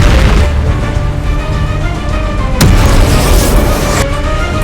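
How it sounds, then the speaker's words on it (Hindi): A loud, sustained boom from a car bomb going off beside a road. It has a deep rumbling body and sharp bursts near 2.6 and 4 seconds, and no voices are heard. "भयावह विस्फोट।"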